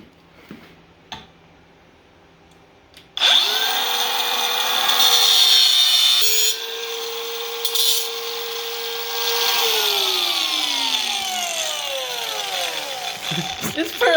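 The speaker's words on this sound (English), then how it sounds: "Got ourselves a little cut-off wheel. We're going to see how badly we can screw this nice straight cut up." A small cut-off wheel grinding through a steel driveshaft, starting with a sudden loud spin-up, then a sustained high screeching whine that shifts in pitch and winds down near the end, close and harsh.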